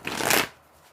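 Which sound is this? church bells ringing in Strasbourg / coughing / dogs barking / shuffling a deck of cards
shuffling a deck of cards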